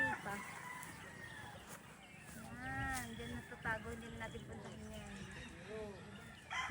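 Several chickens cluck and call close by in a breeding farm's range area, with a rooster-like crow among them, while a person talks over the farmyard sounds.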